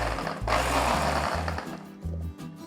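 A mixer grinder holding a handful of neem flowers gives one short pulse: a loud motor whir that rises and then cuts off, followed by a few quieter clunks, with no talk.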